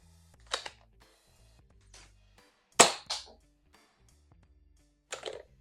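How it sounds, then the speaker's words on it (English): A Dx12 double-barrel toy blaster fires foam darts in a few sharp, separate pops, the loudest near the middle, with quiet handling clicks and pauses between shots. "can confirm it fires Nerf darts as well as the darts it came with"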